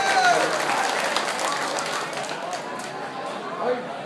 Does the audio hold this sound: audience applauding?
yes